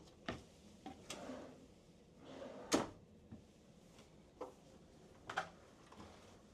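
Shallow cabinet drawers in a cruise ship suite opening and closing, a series of faint, scattered wooden knocks and slides spaced irregularly over quiet room tone.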